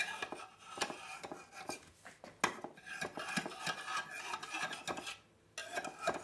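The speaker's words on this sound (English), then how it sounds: "just take the knife and just go around the egg muffin like so" A knife scrapes around the rim of an egg muffin in a kitchen, giving repeated short metallic rasps and clicks against the pan, close and fairly quiet, with a brief pause near the end.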